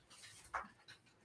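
A dog panting softly with one brief sharper vocal burst in the middle, quiet and short, without any talk.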